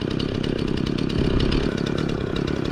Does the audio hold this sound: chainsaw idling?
yes